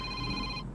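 A telephone rings during a live broadcast of an Islamic religious study session, a single brief, bright electronic ring that cuts off abruptly with no voices.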